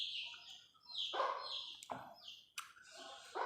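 Chickens call in a quiet morning outdoor ambience, giving a few separate, fairly faint cries spaced apart with near silence between them and no talking.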